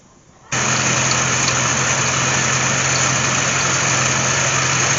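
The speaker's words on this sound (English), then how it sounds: "I'm going to start the car up, turn the AC off, start it up, get the belt going, and just gently bump the AC." A classic car engine, converted from R12 to R134 refrigerant, starts and settles into a steady, loud idle with the A/C compressor engaged, a continuous close hum without pauses.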